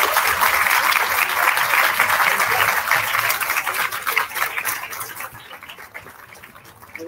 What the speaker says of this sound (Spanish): Y un fuerte aplauso para todas las escuelas que nos acompañan.